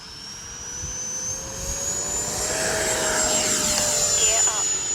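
A model jet with an afterburner roars in the FMS flight simulator game, its engine whine climbing steadily in pitch over a broad rushing roar that grows slightly louder throughout.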